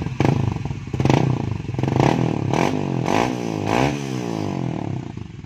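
A Raider 150 Fi motorcycle's loud aftermarket exhaust revs up and down close by, with a deep, raspy, crackling rumble that swells in repeated bursts.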